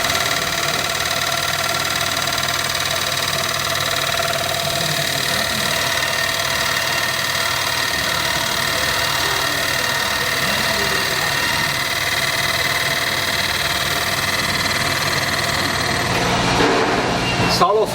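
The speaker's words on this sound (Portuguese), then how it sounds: "é só ligar e ela vai fazer o serviço de usinagem" A boring machine cutting a Gurgel engine block casing to 66 mm, a steady, loud mechanical drone with a constant motor hum and high-pitched whine running throughout, ending with a brief change near the end.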